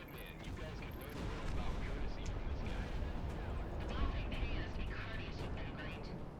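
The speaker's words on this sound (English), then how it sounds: "Firing missiles again." Missile launches and rumbling blasts from Project Wingman, an aerial combat game, roaring steadily and loud for several seconds with dense low booms and jet noise, a voice talking over them.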